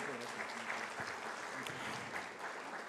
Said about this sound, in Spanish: al licenciado Julián Sobrino Díaz, que recibe con un fuerte aplauso de todos ustedes